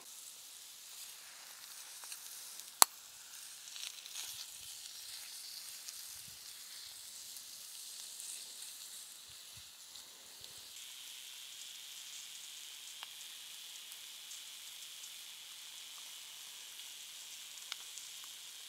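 Eggs fry in an oil-seasoned cast iron skillet outdoors by a campfire in the rain, giving a faint, steady high sizzle and hiss for the whole stretch, with one sharp tick partway through.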